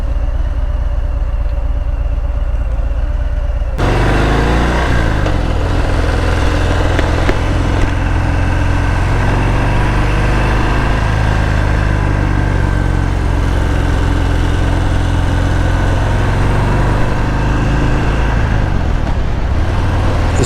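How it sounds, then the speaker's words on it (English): A cruiser motorcycle with the 114 engine runs steadily with a deep, loud, continuous rumble, close to the microphone, after a quieter lead-in. No one speaks. "This bike, of course, has the 114 motor, and believe me, that's all you need."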